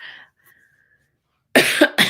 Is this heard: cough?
yes